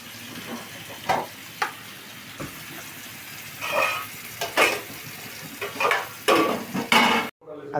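Bitter gourd and pumpkin fried in a pan beside khichuri being cooked, a low sizzle broken by repeated sharp scraping and clattering strokes of a spatula against metal, close and irregular, ending in a sudden cut.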